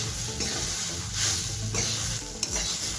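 Cracked wheat (dalia) is stirred and fried in a pan, a loud continuous sizzle with repeated scraping sweeps of the spatula and one sharp knock near the end, no voices.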